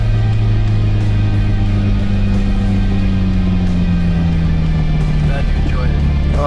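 A 2015 Alfa Romeo 4C sports car's engine drones steadily and loud from inside while driving, its pitch sliding slowly downward as it runs.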